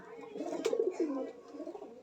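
A soft, low pigeon coo rolls out in a short burst, close by, over faint background hiss.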